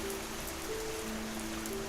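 Steady rain falls in a cartoon, a continuous soft hiss of drops on a surface that stays even throughout, with a faint tonal hum running underneath.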